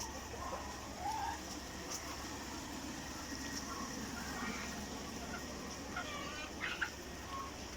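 Faint hens clucking now and then in an egg-laying coop over a steady loud ventilation fan hum, with occasional higher calls toward the end.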